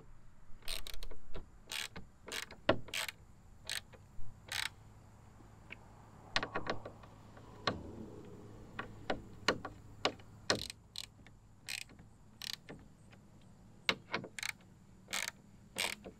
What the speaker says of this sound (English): I'm finishing up the last few threads here.